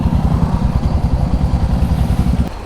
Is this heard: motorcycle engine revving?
yes